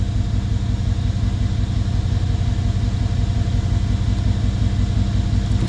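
A Mercedes CLS550 engine runs at a steady low idle rumble, close and continuous, while the transmission is shifted through its gears, with no talk.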